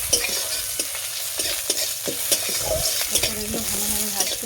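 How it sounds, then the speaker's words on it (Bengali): Chopped onion and cumin seeds frying in oil in a pan, a busy sizzle broken by repeated stirring scrapes and light clinks of utensil on metal, close by with no talk. "এরপর এগুলো ভালোভাবে ভাজতে হবে।"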